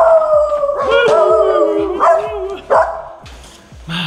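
Several dogs barking and howling together at close range, sharp repeated barks under drawn-out howls, with a person talking nearby.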